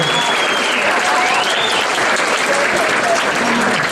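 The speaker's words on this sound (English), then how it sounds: "Let's have a round of applause" Steady, dense applause from a crowd, filling the whole stretch at high level with no break, with a few indistinct voices mixed in.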